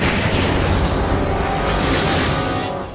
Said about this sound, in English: My shock missiles will get rid of those two once and for all.